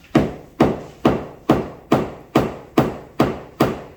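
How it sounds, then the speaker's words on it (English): Nine evenly spaced, sharp hammer blows on a lab pill-pressing device, compacting powder into a pill; loud, close, dry knocks about half a second apart with quick decay, no voices. "I just put some powder inside this device, and I'm gonna use this hammer"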